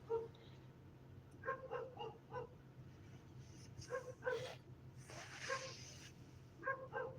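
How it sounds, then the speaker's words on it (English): A dog barks repeatedly at a distance in short bursts of yips and barks, moderately faint over a steady low background hum, with no voices. "Man, that dog could bark forever, I swear."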